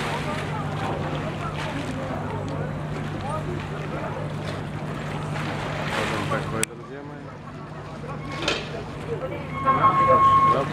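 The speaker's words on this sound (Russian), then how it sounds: "Вот и теплоход. Подъедем." A motor ship on the Neva river in Saint Petersburg, heard from the water as a steady low engine hum under wind buffeting the microphone and lapping waves, with a voice talking over it.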